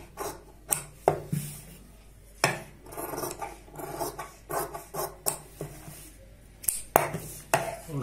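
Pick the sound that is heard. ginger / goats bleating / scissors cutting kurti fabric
scissors cutting kurti fabric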